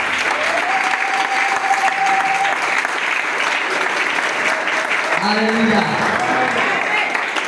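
A church congregation applauds and cheers the Lord in steady, sustained clapping that fills the room, while a voice calls out over it and other voices rise briefly near the end.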